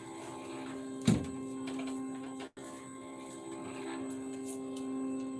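A vinyl cutter machine cutting vinyl for a T-shirt, giving a steady motorized hum with tonal whine. Brief clicks and movements punctuate it, along with one sharp knock and a momentary dropout, all fairly quiet and close by.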